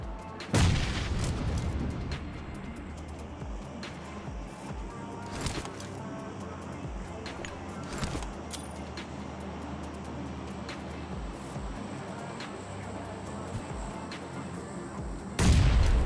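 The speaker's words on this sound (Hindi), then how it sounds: "अब ये वाला जो ग्रेनेड है वो मैं डालता हूँ नॉकडाउन वाले बंदे को फिनिश करने के लिए" Grenade blasts and rapid gunfire from a solo-versus-squad battle royale video game, with loud booms at the start and end framing a steady stretch of shots and rumble.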